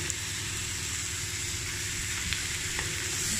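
Ground pork fries with already browned onions in a pan, a steady close sizzle with faint clicks of stirring and no talk.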